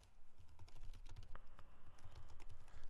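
Rapid keystrokes on a computer keyboard while JavaScript and jQuery code is typed, a steady close clatter of irregular clicks throughout with no voices.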